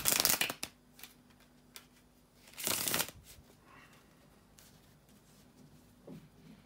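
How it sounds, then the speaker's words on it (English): Tarot cards are shuffled in two quick riffling bursts, one at the start and another a few seconds later, close by, with quiet handling between. "bear with me a second, guys, to shuffle the tarot cards"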